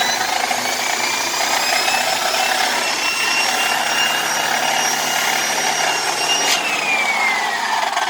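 A turbine vacuum power head runs with a high-pitched, whining drone, steady and loud like a dental drill, with a faint rattle underneath and no talking.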